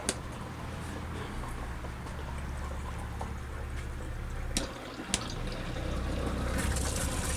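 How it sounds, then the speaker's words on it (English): Inside a toy hauler camper trailer running off its storage tank, a water pump hums steadily along with a low rushing flow, broken by a couple of sharp clicks and knocks. "let me turn the pump on"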